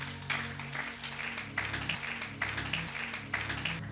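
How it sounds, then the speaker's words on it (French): A church congregation claps in bursts of applause, with several waves of dense clapping rising and fading over a low murmur of voices and background music. "Acclamons pour la gloire de notre Dieu"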